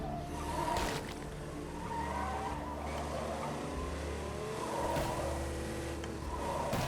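A car in State of Decay 2 slides and skids, its engine droning steadily while squealing tires sweep up and down, with a few sharp thuds and bumps along the way.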